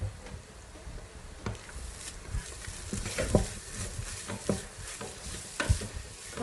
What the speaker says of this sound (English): I'm going to add a little oil so that the fish is more well cooked and more fragrant